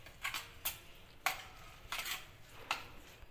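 Spoon scraping and clinking against a bowl while chicken marinade ingredients of salt, coriander and mint are mixed, with several distinct metallic taps spaced irregularly over soft stirring, fairly quiet and close.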